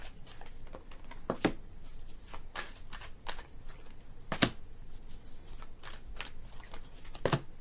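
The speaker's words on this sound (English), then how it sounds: "Let me just get all these cards out." Tarot cards are laid out and handled in a quiet room, with a series of crisp slaps, snaps and flicks at an irregular rhythm, close and moderately loud.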